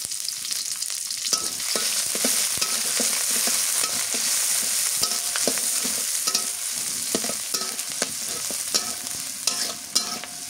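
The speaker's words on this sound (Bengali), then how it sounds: "এখন শাক ভাজি করবো, সরিষার শাক ভাজি।" Mustard greens stir-frying with garlic and green chili in a wok: a loud, continuous oily sizzle with frequent scraping and clattering stirs of a spatula against the pan.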